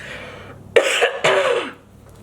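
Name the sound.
coughing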